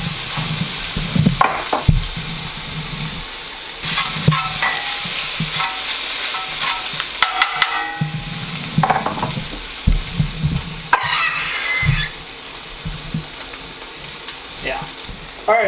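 Blackened fish chunks fry loudly in a pan while a utensil breaks them apart, producing a constant sizzle punctuated by repeated scraping, knocking strokes against the pan over about fifteen seconds.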